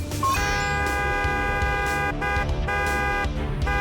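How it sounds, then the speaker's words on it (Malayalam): A cartoon horn honks in an animated show, a loud, bright, buzzy tone with several pulses in quick succession, sounding alone. "ഈ ഹോൺ സൗണ്ട് കേട്ടിട്ട് ആ മോഡലിന് ഒരു അനക്കവും ഇല്ല."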